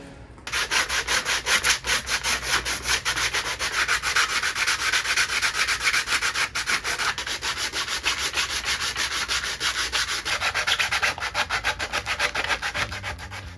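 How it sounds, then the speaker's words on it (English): Steady back-and-forth sanding strokes on a 3D-printed helmet, close and rhythmic, a continuous rasping scrub that keeps going with no talking. "But the most time-consuming part was still ahead of me. Sanding."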